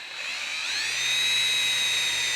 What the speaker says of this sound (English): We're drilling through.